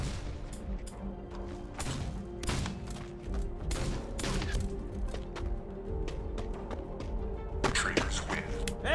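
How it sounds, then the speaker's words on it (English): Gunfire rings out in a VR game of Trouble in Terrorist Town, a string of sharp, irregular shots and bursts at mixed distances, some loud and close, over constant background game noise. "I hear gunshots"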